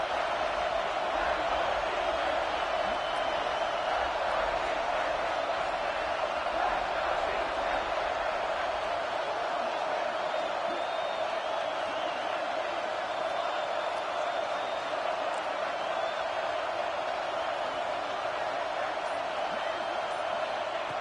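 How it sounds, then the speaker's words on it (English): A steady, dense roar from a stadium crowd in the College Football 26 video game rolls on unbroken as the home fans urge the defense toward a red zone stop, while commentary runs faintly underneath. "This crowd is trying to inspire this defense to make a big red zone stop."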